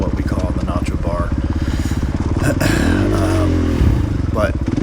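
A motorcycle rides a single-track trail, its engine a steady loud rapid thrumming close by with brief revs, while a rider talks over it.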